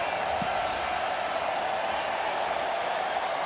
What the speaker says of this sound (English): The crowd making noise.